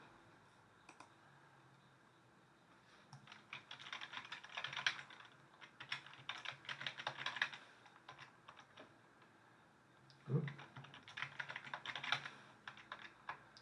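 Quick bursts of keyboard typing, soft rapid clicks in two runs separated by a pause, with a brief spoken exclamation.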